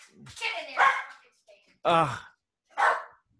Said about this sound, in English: while this dog calms down, I'll come back later